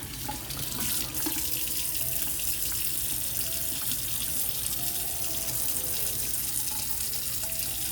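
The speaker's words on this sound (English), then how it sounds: "So I'm gonna be testing out the soap, the lather of the soap." A tap runs steadily into a sink while homemade oatmeal melt-and-pour soap is lathered, a constant close hiss of flowing water with faint handling noises and no talking.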